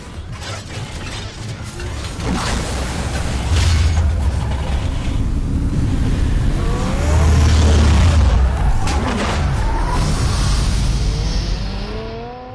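Batmobile engine in Batman: The Telltale Series, a steady loud rumble with rising revs and whining sweeps, swelling around the middle and tapering off at the end, with no talk.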